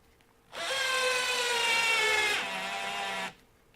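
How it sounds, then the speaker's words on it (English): A Festool power drill whirs for about three seconds, its pitch dropping slightly near the end before it stops, with quiet room tone around it. "I love this drill."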